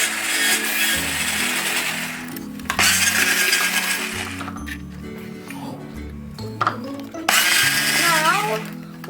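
Butter and sugar for gingerbread cookie dough churned by a loud mixer in long whirring bursts, with brief pauses between runs and faint clinks of the bowl.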